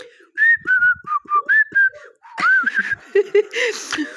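A person whistles a short melody in quick, clear phrases, close and fairly loud, then the whistling turns breathy and mixes with laughter and voices in the second half.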